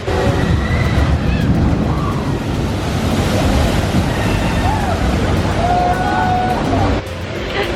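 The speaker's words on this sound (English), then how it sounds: "there's like this big splash of water every time" Continuous rushing, surging water noise from a big splash and churn of a theme park boat ride at Universal's Islands of Adventure, loud and steady, with faint voices and crowd murmur in the background.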